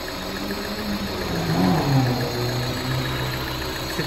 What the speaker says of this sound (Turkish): Aracı çalıştırdık, gördüğünüz gibi çok güzel çalışıyor.